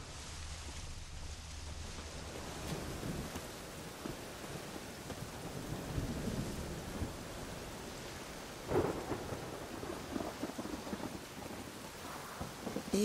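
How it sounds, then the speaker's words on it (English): Steady rain and rolling thunder in a stormy scene from The Witcher 3, a continuous wash of downpour with a louder rumble near the end, no voices. "It's raining, of course it's going to be damp."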